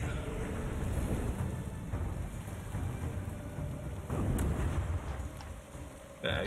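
Fireworks in the video game Litchdom Battlemage burst in a dense, continuous crackle and boom, with a louder flurry of pops partway through, at moderate volume.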